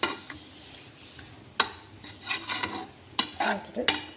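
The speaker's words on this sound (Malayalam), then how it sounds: "നന്നായിട്ട് പച്ചമണം പോകുന്ന വരെ ഇളക്കി കൊടുക്കാം" Home-ground garam masala is stirred in a cooking pot with a spoon, giving quiet, sporadic scrapes and sharp metallic clinks against the pot, with no voices.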